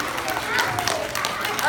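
Audience applause for a child volunteer at a puppet show, a brief burst of scattered clapping from a small crowd in a room, mixed with a voice.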